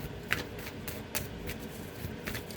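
Tarot cards being shuffled close up, a steady riffling flutter with a few sharper snaps, no talking.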